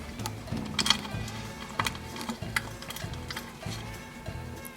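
Screws being tightened by hand on a 1970 Hahn rototiller, close, rhythmic ratcheting clicks in repeated short bursts, with a faint metallic ring on some strokes and no talking.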